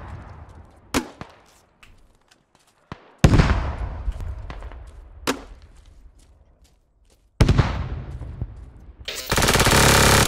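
Rifle and machine-gun fire in Squad with the French faction: sharp single shots and short automatic bursts, some close and punchy with echoing tails, separated by quiet gaps, ending in a loud sustained roar.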